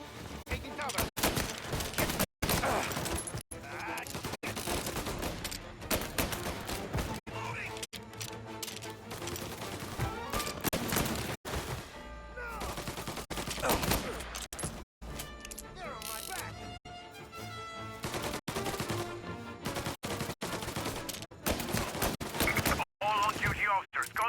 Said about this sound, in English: Gunshot being reported.